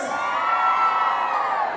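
Women in a crowd at a live regional music event in a packed court shout and cheer together, a sustained high, shrill massed yell held steadily and loud for the whole moment.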